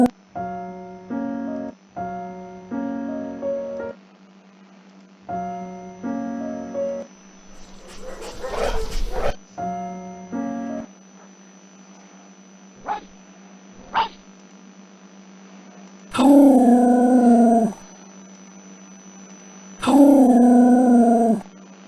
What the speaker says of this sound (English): the other dogs began to bark and snap at each other.